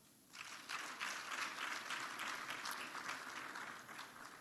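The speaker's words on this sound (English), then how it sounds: "give them a huge round of applause" An awards ceremony audience bursts into applause for the organizing staff, a quiet start giving way to sustained, even clapping from a large crowd heard from some distance.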